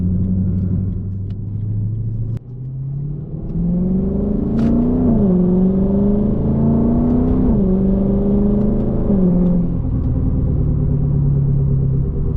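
A Lexus IS F accelerates onto a freeway, its engine rumbling low and rising in pitch through the gears, steady and loud from inside the car, then settling into a cruising drone.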